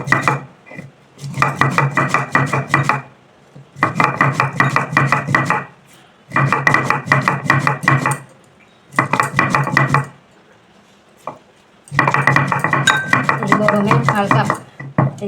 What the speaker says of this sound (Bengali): প্রথমেই আমি জিরেটাকে বেটে নিচ্ছি।